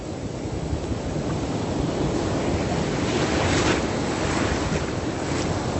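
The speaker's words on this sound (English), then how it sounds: "I'm in the ocean. This is once again the South China Sea." Ocean waves and surf of the South China Sea at a beach in Vung Tau, Vietnam, a loud continuous wash with rising swells and steady wind noise buffeting the microphone.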